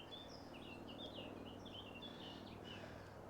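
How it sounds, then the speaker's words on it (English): Small birds twittering along the northern bank of the River Stour near Wimborne Minster, Dorset: a scatter of quick, bright chirps over a steady outdoor hum, faint and somewhat distant, with no talking. "And the birds twittering away."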